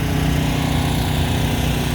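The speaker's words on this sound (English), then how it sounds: "Sorry about that generator noise." A portable generator runs steadily beside a food truck at an outdoor car show, its droning engine note loud, close and unbroken with no speech over it.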